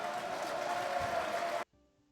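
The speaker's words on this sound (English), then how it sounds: "let's give Lizzle a round of applause for being the demon queen that she is" Steady applause from a crowd fills the air, then cuts off abruptly near the end; applause sound in the game Eversoul.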